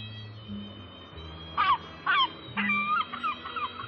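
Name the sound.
birds calling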